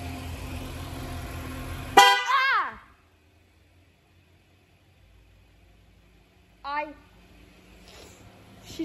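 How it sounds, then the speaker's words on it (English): A loud, sharp car horn honks once up close, followed by quiet, then a short fainter honk or voice-like tone later. "She just honked the horn at me and blew my ear out."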